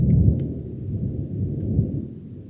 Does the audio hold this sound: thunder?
yes